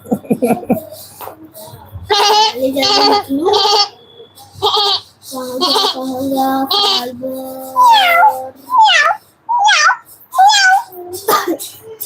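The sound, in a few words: child imitating a goat bleating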